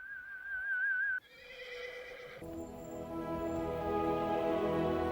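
A horse whinnies loudly in The Two Towers film, a high wavering neigh followed by snorting, then the scene swells into a dense, sustained orchestral wash with clip-clop undertones.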